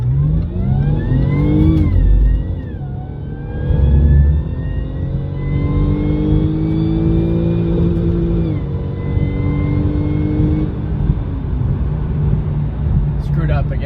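Supercharged Jaguar XF accelerating hard through a quarter-mile pull, engine note rising in long sweeps across several gear shifts, loud from inside the cabin, with a person speaking over it.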